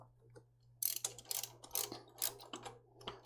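A ratchet clicks in quick uneven runs while torquing the manifold bolts on a Jeep XJ 4.0 engine, close and crisp against a steady low hum.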